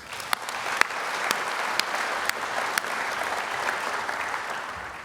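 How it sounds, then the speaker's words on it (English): An audience applauds at an agricultural event in South Australia, a dense steady clapping with a few sharper individual claps standing out, moderately close and sustained. "I think that deserves a round of applause."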